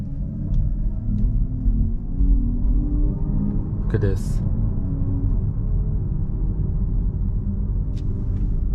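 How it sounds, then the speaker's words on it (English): A Hyundai Ioniq 6 2024 AWD electric car plays its synthetic active drive sound inside the cabin at night, a steady low hum and rumble running throughout, with a brief passing swoosh and a short spoken line over it. "How do you like this active sound design?"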